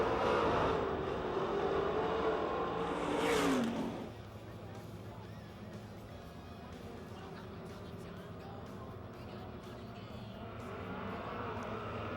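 Super late model stock cars race around a dirt oval at Pennsylvania Motor Speedway near Pittsburgh, engines roaring loudly for the first few seconds, then a steadier, slightly quieter drone of the pack continuing throughout.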